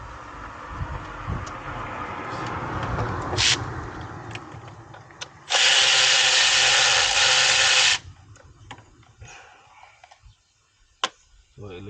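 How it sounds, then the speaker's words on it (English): A cordless electric ratchet with a swivel head whirs in one steady, loud burst of about two and a half seconds while backing out ignition coil bolts on a Dodge Challenger Hellcat engine, between quieter clicks and shop noise. "It helps if you have one of these electric ratchets with a swivel."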